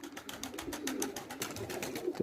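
Pigeons cooing close by, a short run of soft, rhythmic pulsing calls repeating quickly, fairly quiet and alone.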